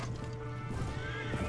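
A horse whinnies amid cavalry battle noise in the video game Mount and Blade Warband, a shrill, wavering neigh over a dense bed of clattering combat sound, fairly quiet overall.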